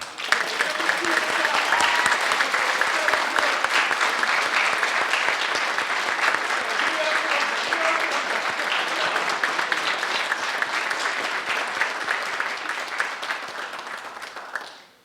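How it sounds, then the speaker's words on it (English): A graduation ceremony crowd applauds loudly and steadily, dense clapping that holds for a long stretch before fading out at the end. "We believe you all deserve a big round of applause."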